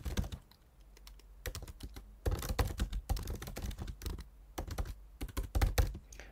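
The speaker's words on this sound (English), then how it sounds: "I'm just going to type in the packages that we use" Clicky computer-keyboard typing in irregular bursts of rapid keystrokes with short pauses, close and fairly quiet, no voices.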